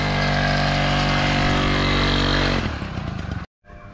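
A restored 1972 Kinetic Luna TFR Plus 50cc two-stroke moped engine drones loudly and steadily up close, then its pitch drops and turns choppy before cutting out briefly and returning.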